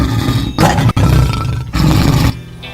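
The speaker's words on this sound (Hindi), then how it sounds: "शेर अभी तक जोर से दहाड़ रहा था।" Lion roaring loudly in an animated Hindi folk tale, with two long, powerful roars separated by a short break, followed by a quieter tail.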